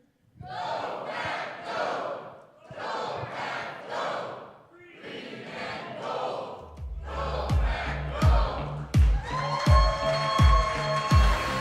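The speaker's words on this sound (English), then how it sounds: "Let's hear the cheer." A live crowd roars a sustained cheer on a fan broadcast tied to the Green Bay Packers, rising in loud waves with shouts, then joined by rhythmic thumping and a held horn-like tone toward the end.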